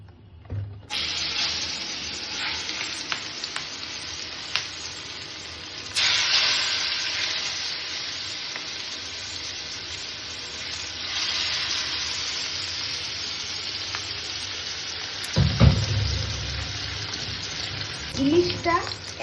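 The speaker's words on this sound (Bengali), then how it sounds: "ইলিশটা একদিক ভেজে নেব, মানে উল্টাবো না।" Hilsa fish frying on one side in cold-pressed mustard oil, a continuous sizzle with crackling bursts and a louder surge near the end, while a voice speaks intermittently over it.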